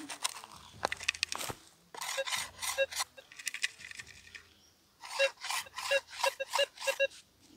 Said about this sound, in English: so let's dig it up and see what our target is